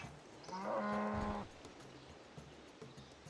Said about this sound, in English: Anyway, we're gonna kill this cow